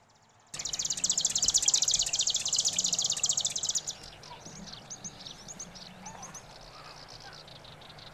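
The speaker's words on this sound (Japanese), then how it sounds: "幻の鳥といわれるオオセッカ。 特徴的なさえずりは聞こえるものの" A loud, rapid buzzing song from a Japanese marsh grassbird in reed beds fills the first few seconds, then fades to scattered faint chirps over quiet background noise.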